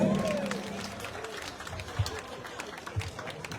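An audience at an outdoor festival claps in a dense, steady patter that continues throughout, with a speaker's amplified voice briefly heard at the start.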